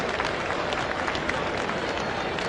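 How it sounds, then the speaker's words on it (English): A sellout crowd at a boxing match between Buster Douglas and Oliver McCall roars steadily, the dense arena noise blending cheering and chanting with no break. "Sellout crowd chanting Buster"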